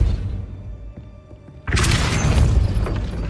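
A Depulso spell goes off in the video game Hogwarts Legacy: after a quiet stretch with faint ticks, a sudden loud whooshing boom with a shattering crash sustains to the end.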